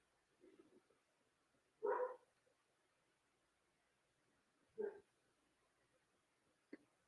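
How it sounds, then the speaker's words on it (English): A dog gives a few single barks, spaced seconds apart and muffled as if from some distance, with quiet background between them. "I don't know what he sees out there he's barking at,"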